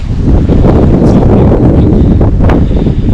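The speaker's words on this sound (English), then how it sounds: "it's pretty windy this morning" Strong wind buffets the microphone in a steady, loud roar with low rumbling gusts and no voices, in Wyoming high country.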